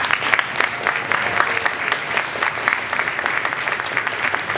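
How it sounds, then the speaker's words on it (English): An audience at a lower school band and orchestra concert claps hard for fourth grade beginners, a thick, sustained roar of many hands that keeps a steady level from start to finish. "And a huge round of applause to our 4th grade beginners"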